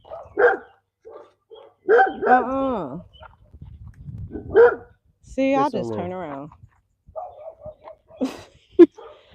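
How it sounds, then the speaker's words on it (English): Dogs out on a walk in Kenya or Ivory Coast bark and yip in short bursts with whimpering, near and fairly loud, mixed in with someone talking. "He fighting with the dogs"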